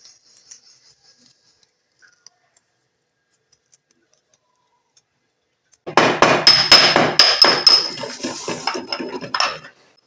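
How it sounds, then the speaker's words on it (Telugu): Cardamom and dry ginger are pounded by hand: after a long near-silent stretch, a quick run of sharp, close strikes rings out for about four seconds and then stops. "తర్వాత ఇలాచి సొంటి ఈ రెండింటిని దంచుకుంటాం"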